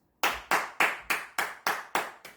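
Eight sharp hand claps in an even, deliberate rhythm, close and distinct, each with a short decay, with no voices.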